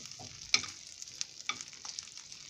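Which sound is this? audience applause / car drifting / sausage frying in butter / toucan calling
sausage frying in butter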